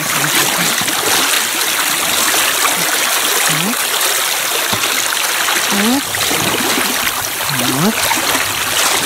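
A river stream in the Taymyr tundra flows in a steady, close rushing gurgle, with a few brief higher chirps cutting in over the water noise.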